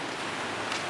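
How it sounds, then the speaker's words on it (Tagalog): Steady rain falling in Araullo, a dense continuous wash of hiss with a slightly brighter patter near the end, heard alone and briefly. "Umuulan na naman."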